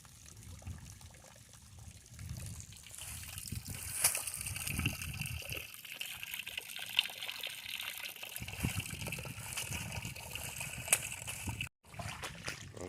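Water flushing through the end of a maple sap line during line cleaning outdoors, a steady low gurgling trickle with occasional splashy surges, faint and continuous.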